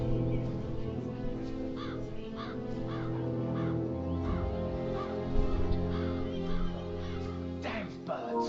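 Crows caw repeatedly in a zombie-themed shooter video game, a series of harsh calls spread across the stretch over a steady bed of game music and ambience.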